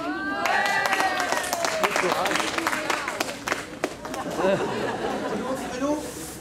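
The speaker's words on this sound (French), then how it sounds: "on peut l'applaudir" Scattered clapping from a street-show crowd around a juggler, mixed with lively chatter and voices, moderately close, rising briefly then thinning.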